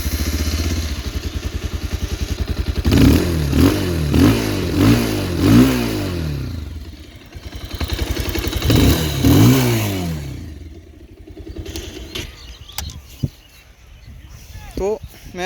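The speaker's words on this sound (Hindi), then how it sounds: "आप लोगों को एग्जॉस्ट नोट सुना देता हूँ" A 2025 Bajaj Pulsar 220F motorcycle engine revs repeatedly in sharp bursts, its exhaust note rising and falling, then settles toward idle with some clatter.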